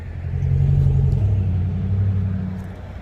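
A 1973 Dodge Dart Sport with a 318 V8 runs nearby, a loud, steady low rumble that rises slightly and then settles, with no talk over it.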